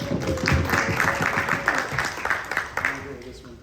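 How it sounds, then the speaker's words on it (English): A bar summit audience claps for a rum speaker, scattered applause that is moderately loud at first and thins toward the end, with voices talking over it. "Everybody give a round of applause."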